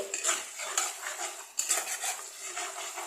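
A spatula stirs and scrapes snakehead fish curry with cumin and ginger paste in a pan: a steady, close metallic scraping with rhythmic strokes and a faint sizzle underneath.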